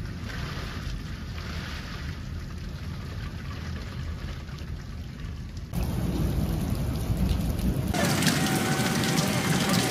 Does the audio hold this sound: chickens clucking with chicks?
no